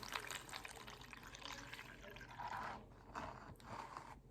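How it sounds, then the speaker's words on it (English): Water poured into a container holding a tablespoon of OxiClean for cleaning a tobacco pipe, a faint liquid splashing and trickling that swells and fades over a few seconds. "And then we just pour the water in there."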